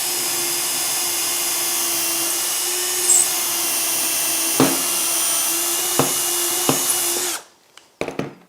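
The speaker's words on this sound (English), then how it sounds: "I can now drill this." A power drill whines steadily and loudly through a 3mm drill guide held in a wide collar on a workshop fixture, with a few sharp knocks near the end before it stops abruptly.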